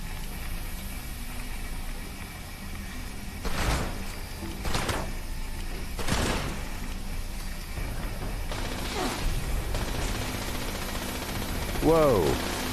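Gunfire clears out small turrets in Fallout 76, a few distinct loud shots and bursts over a steady, noisy game background, ending with a rising electronic whine.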